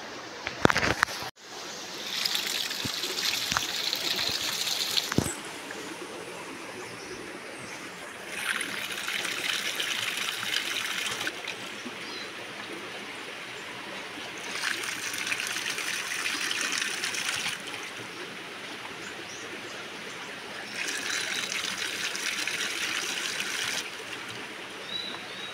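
Water gushes and splashes from a ram pump outlet in pulsing surges, a steady rushing flow that swells and eases at regular intervals, close and fairly loud outdoors.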